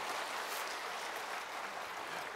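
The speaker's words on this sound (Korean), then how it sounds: "우리 박수 한번 해요." A church congregation applauding at a revival service, a steady, dense wash of clapping that holds evenly for the full stretch with no voices over it.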